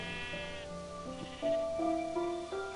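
Minecraft sheep bleating in a few wavering, nasal cries that overlap with soft in-game background tones, fairly quiet and with no talking.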